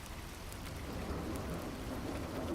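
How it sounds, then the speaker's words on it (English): Steady rain falls continuously as a soft, even wash of drops, forming a gentle background ambience laid under an ASMR reading, with a faint low rumble suggesting distant thunder. "So it is the typical rain,"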